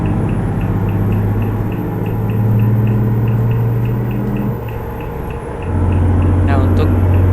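An old bus cruises along the Trans-Java toll road at dusk in Euro Truck Simulator 2, its steady low engine drone filling the mix, dipping briefly before the revs settle again, with talk over it.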